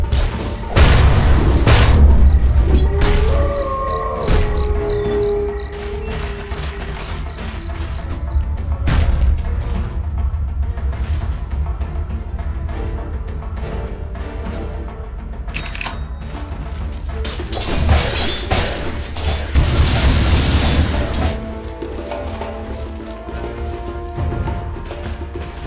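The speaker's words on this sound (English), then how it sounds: "Radiant's bottom tower is under attack." Dota 2 battle at Radiant's bottom tower under attack, with repeated booming explosions and sharp impacts layered over dense game effects, loud and continuous, swelling again late in the clip.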